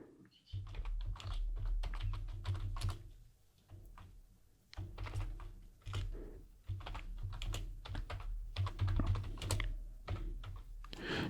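Someone types the apt update command on a computer keyboard while setting up a Debian 11 server, producing close bursts of rapid key clicks separated by brief pauses.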